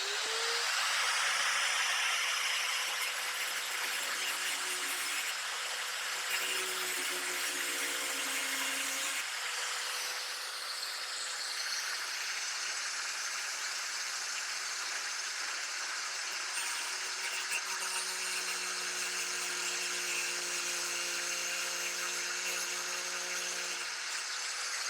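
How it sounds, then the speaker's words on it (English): An angle grinder runs continuously and loudly at close range while building a backup battery for trolling, a harsh whining roar with shifting pitch as it bites into the work, with no speech. "I'm gonna use the old angle grinder"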